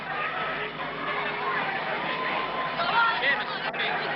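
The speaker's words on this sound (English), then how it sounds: "And a big crowd on the pitch now surrounding all the heroes from Clara." Big crowd swarming the pitch after a 1986 county final won by Clara, a steady dense babble of many voices and cheers, fairly near and sustained throughout.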